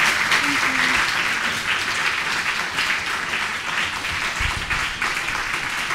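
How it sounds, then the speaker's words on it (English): An audience at a talk applauds its guests, producing a steady, dense wash of clapping that fills the room throughout. "let's start by applause for our wonderful guests here."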